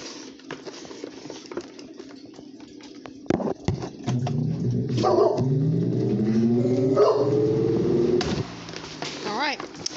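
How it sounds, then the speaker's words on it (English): A dog barks a few times near the microphone beside a 1989 Windmere 16-inch oscillating table fan, model DF16, with the fan's hum and rattle running under the barks. "and there was my dog"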